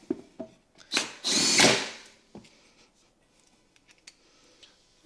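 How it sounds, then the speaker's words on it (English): A power drill drives self-tapping screws into the base of a Yamaha G29 golf cart: short whirring bursts, one longer loud run, then a few faint taps and clicks in a quiet space. "I'm just using self-tapping screws to mount the charger to the base of the cart."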